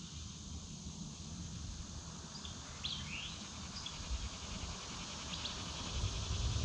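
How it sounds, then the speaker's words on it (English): Crickets chirp outdoors in the early morning as a steady high-pitched drone, with a few distant bird calls scattered over it and faint rustling beneath. "You hear the crickets"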